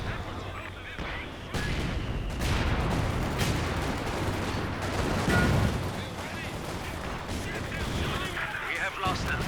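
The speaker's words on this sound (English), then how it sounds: "And this is just carnage. The mortars are just flying either way." Chaotic Company of Heroes 2 battle in a large team match, with dense gunfire bursts and mortar and artillery blasts crackling and thudding continuously and some distant booms.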